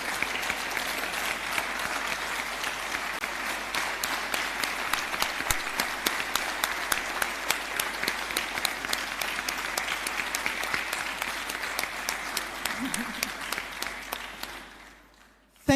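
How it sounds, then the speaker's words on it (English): A large standing audience at a university convocation ceremony gives the vice chancellor sustained, even applause, many hands clapping steadily for about fourteen seconds before it tapers off and stops. "please stand up and join me in giving a resounding applause of thank you to our Vice Chancellor"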